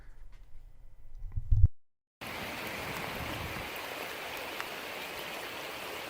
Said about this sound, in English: I went by this house and caught it during a rainstorm.